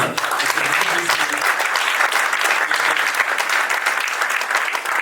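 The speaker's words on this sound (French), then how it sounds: "Oui, on peut applaudir, c'est bien." Sustained audience applause at a French-language talk, dense and steady clapping from many hands throughout, fairly close and loud.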